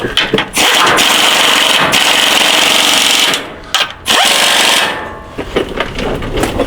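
An impact wrench hammers away at transmission bolts on a 6T70 gearbox, loud and close, in long rattling bursts broken by short pauses and a few quick hits.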